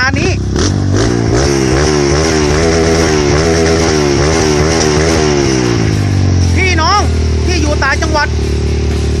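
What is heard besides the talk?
modified Kawasaki KLX 125 motorcycle engine revving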